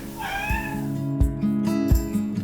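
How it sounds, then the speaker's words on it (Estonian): A talking house cat meows close up, one long wavering call followed by shorter rising vocalizations, with a few sharp knocks in between. "nüüd on tal kodus rääkiv kass Aksel"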